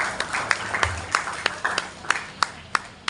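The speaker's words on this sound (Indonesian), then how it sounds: "Kita tepuk tangan untuk bersama" Applause at a send-off ceremony for twelfth-grade students: a brief burst of scattered hand claps from an audience, fairly close, with distinct sharp claps spaced irregularly over a few seconds.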